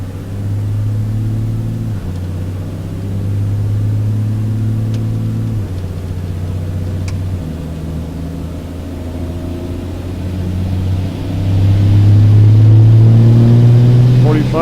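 A turbocharged car engine pulls through gears on a test drive, its drone rising in pitch, dropping at each shift and climbing again, then swelling louder toward the end while people talk over it.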